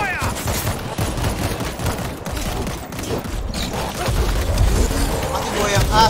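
Sustained gunfire in the zombie shooter World War Z, set in Jerusalem, crackles on as a near-continuous barrage of overlapping shots, with players shouting over it.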